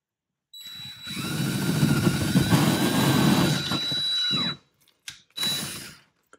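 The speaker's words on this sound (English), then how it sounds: "switch to the included 3/4 inch spade bit, and we're going to enlarge this hole" A power drill with a 3/4 inch spade bit whirs loudly and steadily for about four seconds as it bores through a house wall, then stops, followed by two brief bursts of drilling.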